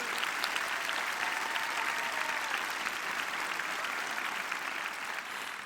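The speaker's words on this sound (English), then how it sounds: "let's give them one big round of applause" An audience at a nursing pinning ceremony claps steadily in a dense, sustained round of applause that fades slightly toward the end.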